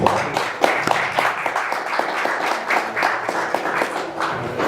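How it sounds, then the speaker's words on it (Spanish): An audience at a political discussion panel applauds with dense, steady clapping that continues evenly throughout, with no voices over it. "Pido un fuerte aplauso para él."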